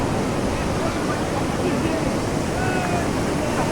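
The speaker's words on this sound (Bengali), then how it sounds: "আর এই যে ঢেউ আসছে" Sea waves rolling onto the beach at Puri, a steady dense roar of surf that fills the whole stretch, close and loud without a break.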